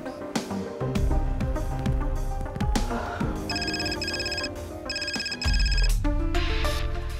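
A house landline rings repeatedly over a busy music bed, its bell-like trill recurring in steady bursts while the call goes unanswered.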